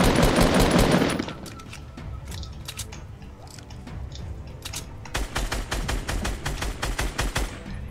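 Rapid bursts of Fortnite Battle Royale gunfire, a loud volley at the start, then scattered shots and a steady run of rhythmic automatic fire near the end.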